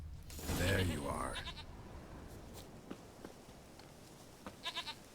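A goat bleats in The Witcher 3 game, a loud wavering call at the start, followed by quieter ambient game sounds and a few brief clicks.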